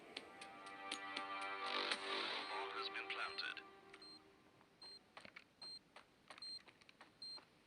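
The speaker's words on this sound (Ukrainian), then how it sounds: "Так, де, де це вона пікає? Де це вона стоїть? Це вибухівка." A planted bomb beeps in the mobile shooter Standoff 2, a run of short, sharp electronic ticks at a steady, quickening pace, faint and close, while someone talks over the start.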